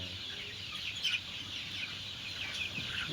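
Clucks from a handicapped chicken, fairly faint and intermittent over a steady hiss of background noise, with a couple of slightly stronger calls.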